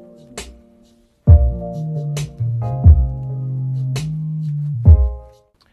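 Combined drum tracks of a song's beat, with punchy low kicks and sharp bright hits landing in a loose, spaced rhythm over sustained tonal bass notes, loud and alone with no voices.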